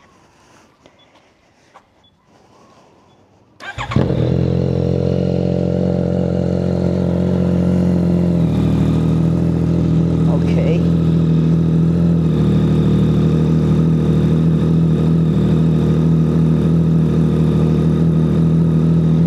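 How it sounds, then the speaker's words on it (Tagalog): A Yamaha MT-09 SP fitted with an Orion Precilla exhaust fires up after a brief quiet moment, then idles loudly and steadily with a deep, even rumble close by. A voice speaks briefly before it starts. "So sound check natin itong bagong pipe ng ating MT-09 SP."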